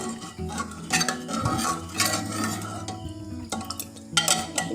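A spoon stirs food in a pan with a water-based mixture, repeatedly scraping the sides in uneven strokes, with metallic clinks and a faint sizzle underneath, close and fairly loud.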